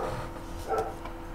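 A single muffled dog bark sounds from a distance, faint and brief against a quiet room.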